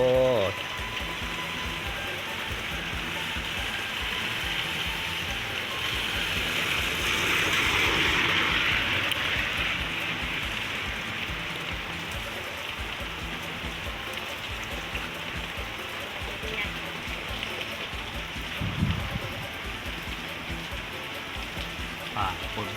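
Rain falls steadily during a rainy spell in southern Thailand, a dense, continuous hiss of drops on surfaces that swells slightly midway and stays even otherwise.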